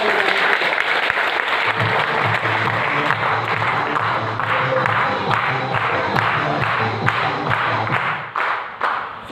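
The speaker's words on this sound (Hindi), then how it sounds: "एक बार हम चाहेंगे इनके लिए ताली जोरदार।" An indoor audience at a business event claps in sustained, loud applause with dense overlapping hand claps, tapering off toward the end.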